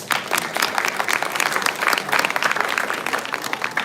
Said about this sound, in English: Please, audience, give them a big round of applause.